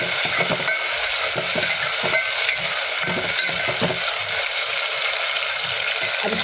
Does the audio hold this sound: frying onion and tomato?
yes